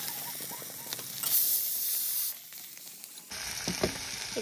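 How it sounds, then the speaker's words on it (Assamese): Onions frying in a pan during festival cooking give a steady sizzle, loudest in the middle stretch, with faint clinks and stirring scrapes; no one speaks. "ভাজিবৰ কাৰণে ইয়া পিঁয়াজ অলপমান দি ভাজি ল'লোঁ"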